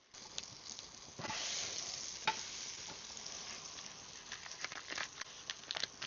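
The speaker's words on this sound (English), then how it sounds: "I'm going to eat this while the pancake cooks." A pancake sizzles softly in a pan at a campsite, a steady quiet fry with small crackles and pops and no talking.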